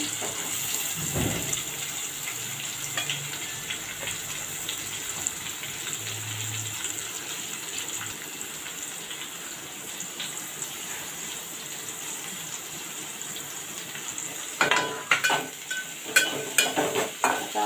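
Finely chopped onions drop into cumin frying in a pan with a steady sizzle and soft stirring, and louder scraping bursts come near the end.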